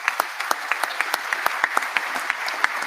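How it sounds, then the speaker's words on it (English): A small conference audience applauds the panelists at the end of an opening plenary session, with distinct individual claps sounding over a soft continuous patter at moderate distance. "I'd like to give a round of applause to the panelists today"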